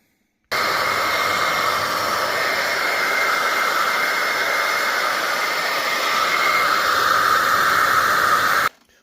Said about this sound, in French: c'est un vieux sèche-cheveux de ma femme